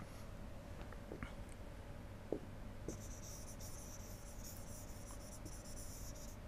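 Faint scratching of writing or drawing on a board while sketching an automata state diagram, with a few soft strokes and taps over a steady room hum.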